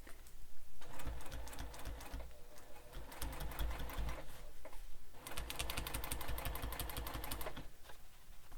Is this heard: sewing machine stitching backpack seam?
yes